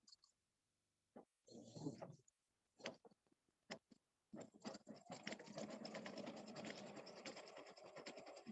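An embroidery sewing machine steps backward through stitches, giving a few separate mechanical clicks, then a steady fast ratcheting stitch run that stays loud and close to the end, with a brief murmur of voice early on.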